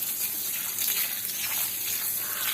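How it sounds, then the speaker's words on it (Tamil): A forceful spray of water washes soil off a lotus tuber during repotting, a steady broadband hiss and gush held close and loud for the whole stretch with no pauses. "இப்போ ஃபோர்ஸாக தண்ணி அடிச்சுக்கிட்டோம்னா அது தொழி எல்லாம் போயிடும்"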